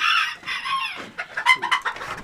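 Chickens clucking in a coop, close and loud, starting with a drawn-out squawk and then a run of short choppy clucks.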